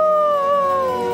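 A cartoon ghost in a children's animated Halloween story lets out a long, wavering howl, one sustained tone sliding slowly downward, close and clear with no other sounds.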